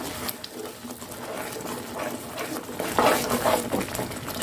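A spoon stirs a thick moong dal halwa mixture, tinted with optional orange food colour, around a pan, giving a steady soft scraping and clinking that swells slightly toward the end.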